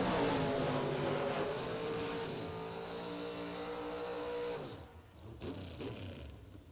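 A Corvette Roadster drag racing down the lane roars loud and close, its engine pitch climbing steadily, then cuts off sharply and leaves a quieter, more distant rumble.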